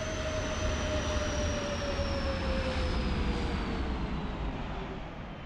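A simulated airliner landing at Atlanta in Microsoft Flight Simulator 2024: a steady, loud jet engine roar with a thin whine that slowly falls in pitch, fading slightly at the end, with no voices.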